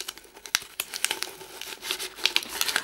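A small plastic packet of tulsi seeds crinkles and rustles close up in quick irregular bursts of crackling, handled with no talking.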